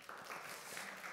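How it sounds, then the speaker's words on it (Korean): A church congregation at a Sunday worship service claps together in a brief, dense burst of applause, heard at a moderate distance and fairly faint. "친구들을 위해서 박수 보내겠어요"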